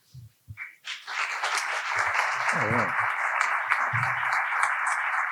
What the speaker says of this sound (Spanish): otro aplauso más para ellos, para sus ponencias que estuvieron excelentes